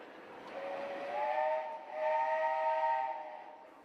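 A steam engine whistle sounds at the start of a parade through the town, two sustained tonal blasts with a short dip between them, heard from some distance and fairly faint, without voices.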